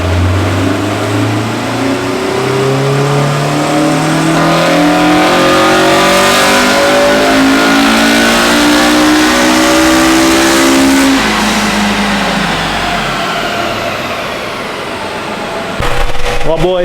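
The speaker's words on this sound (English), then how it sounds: "let you guys hear this VTEC, because the last one, it cracked pretty hard" A Honda EM1 Civic engine revving hard for a long, loud, close pull, pitch climbing steadily through the rev range before dropping off, with a rough rasp near the end.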